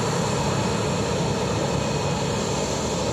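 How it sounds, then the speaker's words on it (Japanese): An ANA airliner taxis under its own power toward the runway at Okhotsk-Monbetsu Airport, its engines giving a steady, loud broadband roar that holds unchanged throughout with no voices. "トーイングカーは使わず、自力で回転して滑走路へ出ていきます。"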